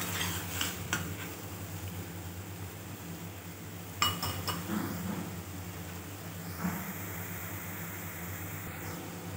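Ridged gourd, onion and tomato being stirred in a pan while browning, quiet scraping and occasional utensil clinks against the pan over a soft low sizzle.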